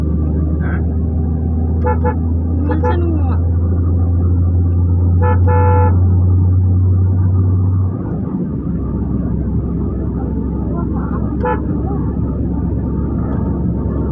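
Busy road traffic on a route to Penneswaram, with a steady low vehicle rumble and several short car horn toots scattered through, one strong engine drone fading out partway.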